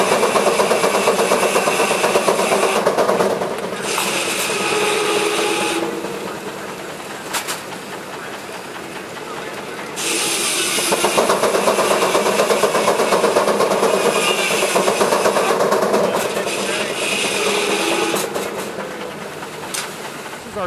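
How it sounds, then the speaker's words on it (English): Old hit-and-miss governed gas engines run at a steam show, a steady mechanical chugging and clatter that rises and dips, with faint voices in the crowd. "most of these engines are hit and miss governed"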